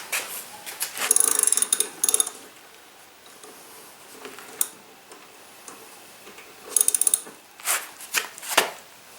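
A hand ratchet clicks in quick bursts while loosening the blade bolt on an Ariens 6.75 EX lawn mower with a 180cc Briggs and Stratton engine, crisp close ticking separated by quieter shuffling and clunks.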